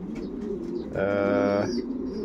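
Racing pigeon that has just returned, tired, to its home loft, giving a single clear, close coo lasting under a second amid quiet background sound.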